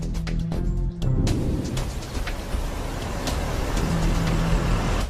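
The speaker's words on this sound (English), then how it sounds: "This police video taken at the time shows Lee Wenham's truck leaving and arriving" A truck pulls away and arrives amid steady road traffic, a loud continuous engine rumble with passing-vehicle wash, heard alone without voices.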